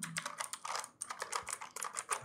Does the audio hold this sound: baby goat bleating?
no